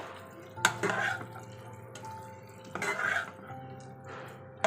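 A utensil stirs pointed gourd curry with garam masala in a pan, giving scattered scraping and clinking strokes, a few sharp knocks against the metal, and quiet gaps between them.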